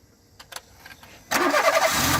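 A petrol car engine cranks and catches during a fuel pressure regulator check, a few faint clicks first, then a loud, sudden start that settles into a steady running roar.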